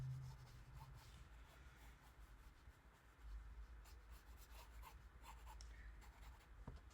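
Tombow pencil drawing on paper, a soft continuous rubbing scratch with faint stroke-by-stroke variation, close and quiet, with no talk.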